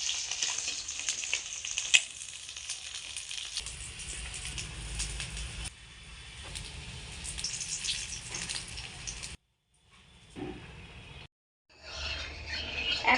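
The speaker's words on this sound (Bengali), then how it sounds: "সব ডিম সোনালি কালারের করে ভেজে নিয়েছি" Duck eggs fry golden in hot oil with a continuous bright sizzle and crackle, broken by a couple of short silent gaps near the end before the frying hiss returns.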